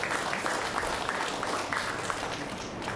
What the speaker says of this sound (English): So a round of applause for those people too